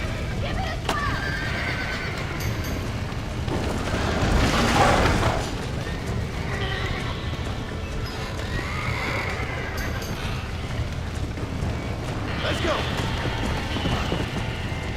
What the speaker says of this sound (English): Soltar os cavalos agora.